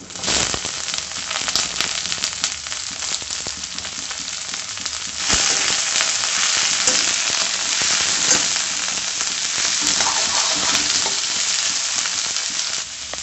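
Shredded cabbage fries in a hot pan with a loud, dense sizzle and crackle, swelling sharply when more goes in partway through, with occasional stirring scrapes and no talk.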